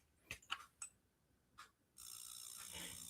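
A clothes dryer clicks on with a few faint, sharp mechanical clicks, followed by a steady low whirring hum that continues to the end.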